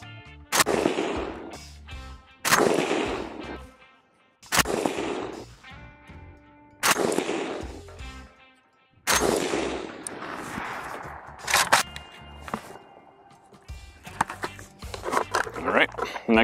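Suppressed gunshots from an Arsenal SAM5 Bulgarian milled 5.56 AK rifle ring out, about eight loud single reports at irregular intervals, each followed by a short echoing decay outdoors.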